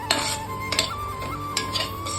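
A spoon stirs and sautés a rice mixture in a pan for fried rice, giving several close metallic scrapes and clinks against the pan over a steady low background, with no talk.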